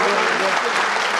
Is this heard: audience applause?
yes